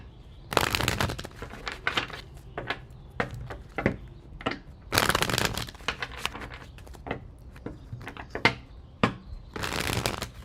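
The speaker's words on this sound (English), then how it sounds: "Last shuffle" Tarot cards get shuffled close up outdoors: three strong papery riffles at the start, middle and end, with lighter taps and card slaps scattered between them.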